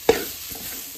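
Masala spices with poppy seeds and turmeric powder roast in a pan: one sharp scrape of stirring, then a soft, faint sizzle for under a second.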